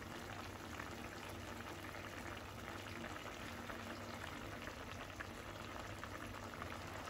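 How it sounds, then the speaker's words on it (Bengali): Potatoes boiling in a tengra fish curry, a steady, close bubbling and simmering that holds evenly throughout with no voices. "এই পর্যায়ে আমার কাছে মনে হলো আলুটাকে আরো কিছুক্ষণ সেদ্ধ করা লাগবে।"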